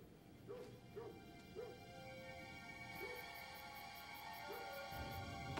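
Several dogs bark and yip in short bursts at a moderate distance, spaced out over a steady background hum, with occasional whimpers.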